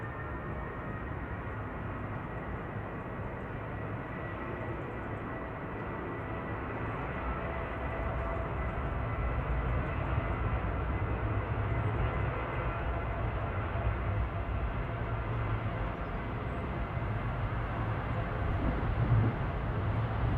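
A Jet2 Boeing 737-800 departs runway 05 left at Manchester Airport, a steady, fairly faint jet roar that swells slowly over twenty seconds with no talk.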